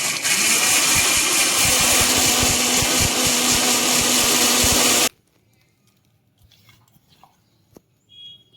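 A mixer grinder blends raw fennel and poppy seeds for chicken gravy, whirring loudly and continuously for about five seconds, then stops, leaving a faint quiet room.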